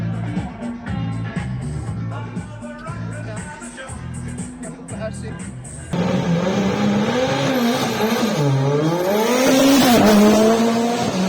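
A Ford Sierra Coupe Turbo races at Ogulin, its engine droning loud and close as the revs rise, fall and shift, growing louder and harsher in the second half with a tire squeal near the end.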